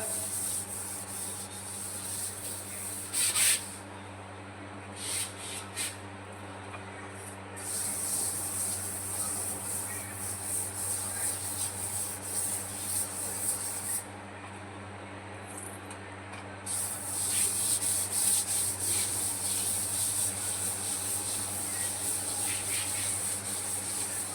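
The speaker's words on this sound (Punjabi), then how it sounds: "ਲਓ ਜੀ ਆਪਾਂ ਸਕ੍ਰੱਬ ਦੇ ਨਾਲ ਇਹਨੂੰ ਸਾਰੇ ਲਾਵਾਂਗੇ" A tile floor scrubbed with a scrub brush and cleaner: a continuous rasping, hissing rub that carries on steadily for the whole stretch, with brief pauses and changes in stroke intensity, close and fairly loud, no voices.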